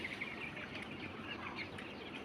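Chickens cluck steadily on a home farm with ducks and geese nearby, a dense continuous chatter of fowl at close to middle distance with no talking.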